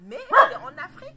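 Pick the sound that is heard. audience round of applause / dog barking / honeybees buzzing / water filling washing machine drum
dog barking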